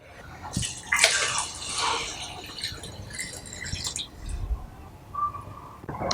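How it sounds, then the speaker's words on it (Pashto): Water poured into a pot of Afghani pulao over layered meat, a steady splashing, trickling pour up close that rises and settles over several seconds, with no talk. "اوس په دې په حساب باندې اوبه په دې کې شامل کړو"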